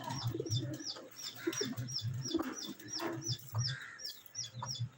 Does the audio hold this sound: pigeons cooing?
yes